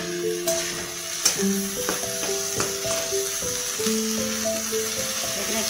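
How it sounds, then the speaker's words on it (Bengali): Carrots and beans hit a pan of frying onion, giving a soft continuous sizzle under background music, with a few clinks and stirring sounds scattered through. "এবার আমি এখানে গাজর আর বিনসটা দিয়ে দেব।"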